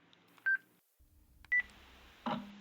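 Telephone keypad tones ring out faintly as a number is dialed, with two short beeps and then a brief, fuller tone at the end in a quiet room.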